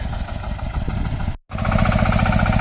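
A large walk-behind tractor engine runs while hilling and weeding potato rows, a loud rapid thumping drone that cuts out briefly, then resumes with a steadier, stronger beat.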